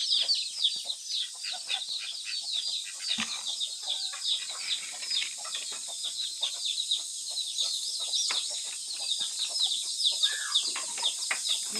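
Free-range native chickens cluck and chatter continuously, a busy flock close by, with occasional sharper calls and wing rustles throughout.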